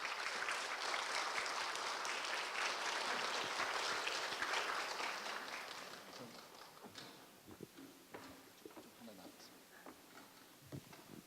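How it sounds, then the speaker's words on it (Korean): A lecture audience of teachers gives a professor a welcoming round of applause at a special lecture, steady dense clapping for about six seconds that then thins into scattered claps. "나오실 때 우레와 같은 박수로 환영을 좀 부탁드리겠습니다"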